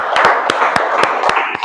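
Classroom students clap their hands in a quick, loosely rhythmic run of sharp claps, close and loud, with a murmur of voices beneath.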